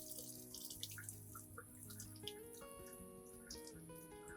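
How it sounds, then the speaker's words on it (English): A potted flowering plant is rinsed under a running tap, a faint trickle and splash of water heard beneath soft background music. "Now, thoroughly rinse the entire plant under clean running water."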